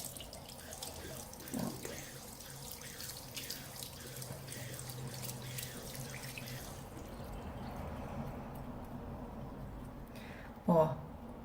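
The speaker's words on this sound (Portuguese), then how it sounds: "Aí, vamos pôr embaixo d'água aqui pra ver." Tap water runs steadily over a hand at a sink, a soft continuous splashing with a louder splash near the end; no talking is heard.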